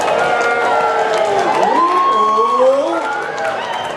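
A folk festival audience cheering loudly and continuously, with whoops and shouts rising over the crowd noise and voices mixed throughout.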